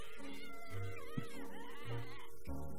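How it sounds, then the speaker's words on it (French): A cat in the video game Stick It To The Man meows repeatedly, a few drawn-out close cries spread over a couple of seconds. "En même temps, là, il y a un chat."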